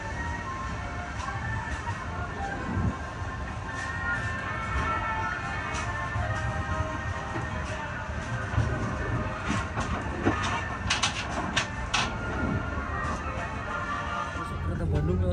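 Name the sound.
Bandung-bound train passing on railway in Java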